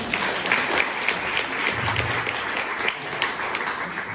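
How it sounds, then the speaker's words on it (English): Audience applause and cheering at a stand-up comedy show, a steady wash of clapping from a crowd throughout, moderately loud and continuous with no talk over it. "big cheer for Vicky"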